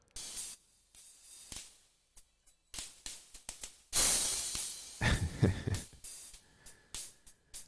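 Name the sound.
distortion plugin on drums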